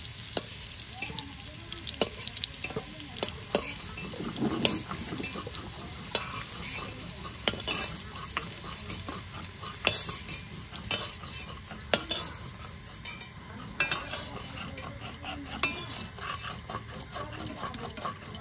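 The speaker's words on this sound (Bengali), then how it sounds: "এবার নেড়ে চেড়ে আলুগুলোকে সুন্দর করে ভেজে নেব" Potatoes fry in hot oil for a meat curry, a steady sizzle broken by repeated scraping and clinking as a spatula stirs them around the pan, close and continuous.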